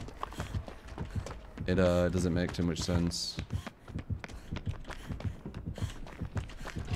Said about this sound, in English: I can hear Billy's footsteps like really clean.